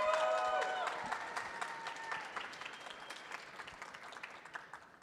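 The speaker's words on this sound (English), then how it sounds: "Can we give them one more round of applause?" Audience applause at a youth poetry festival on a stage, a burst of many hands clapping that starts strong and gradually thins out over a few seconds.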